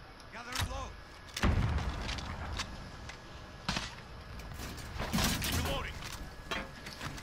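Grenade blasts in a video game go off as several loud, sharp bursts spread through the clip, with game noise and speech in between.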